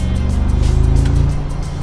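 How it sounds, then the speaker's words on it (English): A 2019 Mercedes G63 AMG V8 engine rumbles up close with a loud, deep, throaty growl and rhythmic pulsing that eases slightly toward the end. "nothing beats a V8 Mercedes engine. They have perfected that noise. They have perfected that tone, that growl"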